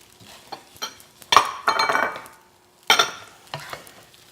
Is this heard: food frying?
yes